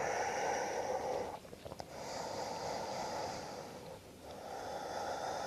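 Slow, deep breaths during a yoga flow, a long airy inhale and exhale filling most of the time with a brief snorting catch in the middle, close and steady with no talk.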